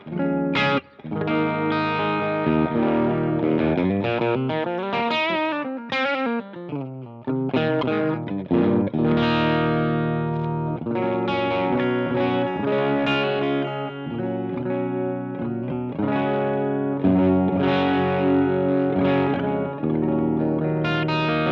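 Heavily distorted electric guitar plays continuous chords and riffs, loud and sustained, with an aggressive yet warm crunchy tone and some chorus and reverb effects, no voices.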